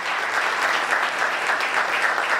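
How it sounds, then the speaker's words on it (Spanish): Steady, dense applause from a crowd, sustained and fairly loud throughout with no voices rising above it. "Un minuto de aplauso"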